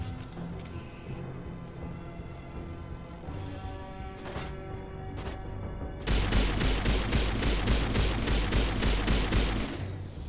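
Gunfire in Mass Effect 1 Legendary Edition combat: sparse distant shots at first, then a loud, rapid run of evenly spaced automatic fire filling the second half.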